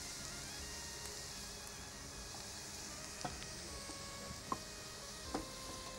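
Fenugreek leaves sautéing in a pan, a faint steady sizzle with a few soft clicks of a spatula stirring, heard alone without talk.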